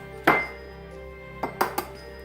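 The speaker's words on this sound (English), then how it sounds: "I'm going to go ahead and get the last egg in" Egg cracked against a bowl while making homemade eggnog: one sharp crack, then a short pause and three quick clinking taps of shell on glass or ceramic, close and clear in a quiet kitchen.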